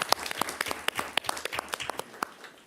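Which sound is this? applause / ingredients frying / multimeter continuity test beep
applause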